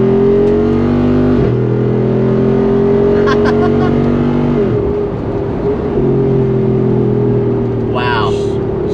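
Jeep Wrangler Rubicon 392 with the 6.4-litre HEMI V8, driven at a truck rodeo event, giving a loud deep burbling engine note that rises and falls through gear changes, heard up close from inside the cabin.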